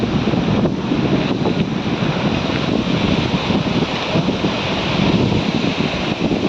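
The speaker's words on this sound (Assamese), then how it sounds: "চাওক বতাহৰ কিমান জোৰ" Strong wind blowing over flood water in an Assam village, a loud continuous roar of gusts buffeting close with a washing, surf-like texture throughout and no talk.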